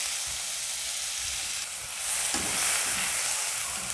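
A chopped large onion hitting hot butter and oil already seasoned with cumin seeds, a bay leaf and a small piece of cinnamon, sizzling loudly and steadily, with a brief stirring scrape as the frying intensifies midway.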